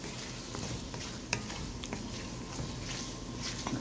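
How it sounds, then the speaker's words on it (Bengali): Spice paste for a mutton curry fries in a pan with a steady low sizzle, broken by occasional soft stirring scrapes and small pops, close and fairly quiet. "মশলাটা খুব সুন্দর কষে আসছে।"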